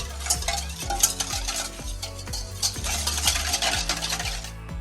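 A tablespoon of sugar is stirred to dissolve it while making Paska Easter bread, with a spoon scraping and clinking against the bowl in quick, steady strokes.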